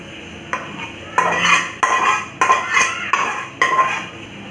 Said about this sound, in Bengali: তো এবার আমি ঢাকনাটা খুলছি